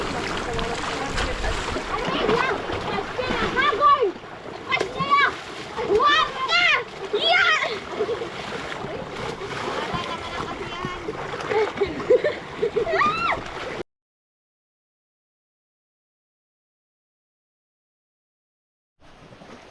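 Swimmers splash about in the sea, with irregular bursts of water churning close by and children's voices chattering and shouting throughout, ending in sudden silence.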